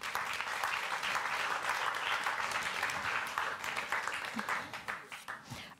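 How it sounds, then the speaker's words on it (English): Indoor audience applause welcoming a guest onto the stage at a literary talk, a dense, steady burst of clapping that thins and fades toward the end. "give him an applause"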